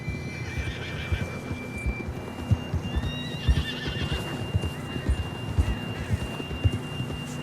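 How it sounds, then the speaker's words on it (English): In the Red Dead Redemption 2 video game, a horse whinnies over a steady run of hoof clip-clops, with a faint hum beneath. "John was riding that horse when we left Blackwater."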